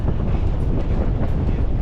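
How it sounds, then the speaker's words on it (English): Strong gusting headwind buffets cyclists on a road during a long-distance bike tour, a loud steady roar of low rumbling wind noise on the microphone, continuous with no talk. "Check out the wind we're fighting today."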